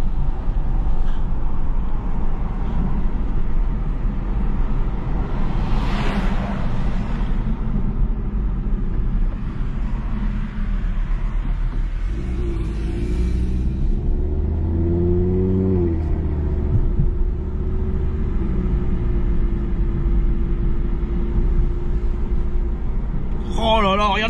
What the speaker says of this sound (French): Le son du 5 cylindres est vraiment beau.